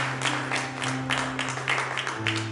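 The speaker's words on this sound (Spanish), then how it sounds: "Dale palmas al Rey y dile gracias, Señor Jesús." A church congregation claps hands together during worship, a dense, rhythmic patter of many palms sustained throughout, with faint voices or music held underneath.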